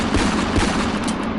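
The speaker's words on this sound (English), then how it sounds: "The next one is a revolver, and it is the Rhino 60DS." A Rhino 60DS revolver fires in a VR video game, with loud, dense booming energy held throughout a short burst and no talking.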